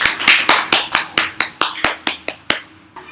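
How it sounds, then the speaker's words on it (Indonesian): A classroom group claps in unison for group 2 after a peer-teaching lesson, about thirteen loud, evenly spaced claps in a steady rhythm with no talking over them. "Tepuk tangan untuk kelompok 2."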